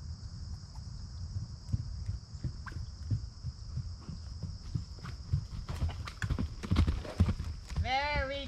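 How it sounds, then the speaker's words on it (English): A horse's hooves beat out a steady clip-clop rhythm on the ground while it practises canter transitions. People talk over the hoofbeats, and a brief snorting or whinnying sound comes near the end. "We have been working on canter transitions."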